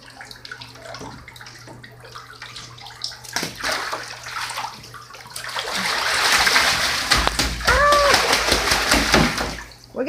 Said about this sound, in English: We're getting splashed.